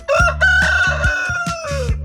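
A rooster gives one long, loud, close crow that rises and then trails off, with a steady low rhythmic thumping beneath it.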